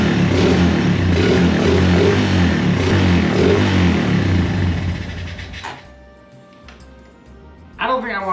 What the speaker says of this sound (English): I've got a flathead so we can try and get started again and adjust the idle up some.